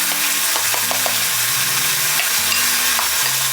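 Bacon frying in a pan gives a continuous, loud sizzle with scattered crackles and pops, while a low hum of music runs underneath throughout.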